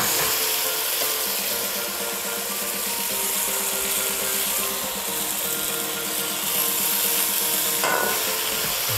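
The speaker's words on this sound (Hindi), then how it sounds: "प्याज ब्राउन हो चुके हैं। अब टमाटर डालते हैं।" Tomatoes dropped onto browned onions in a pan for chicken pulao, giving a steady close sizzle with frying crackle and some stirring scrapes throughout, no voices.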